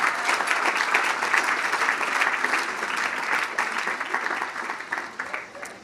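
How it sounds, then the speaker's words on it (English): Applause from a gala audience fills the whole stretch, a dense, steady roar of many hands clapping that fades slightly toward the end. "Let's give it a round of applause for the Native American community as well."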